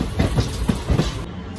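Teesta Torsa Express train 13141 running on rails out of Sealdah, close rhythmic clickety-clack of wheels over rail joints in a steady beat, with a rumbling undertone.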